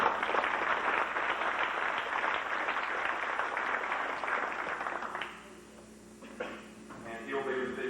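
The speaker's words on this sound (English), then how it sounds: "So let's give Carl a round of applause." Applause at a 1989 FFA banquet rises as a crowded patter of claps for about five seconds, then thins out as a speaker's voice and room noise return.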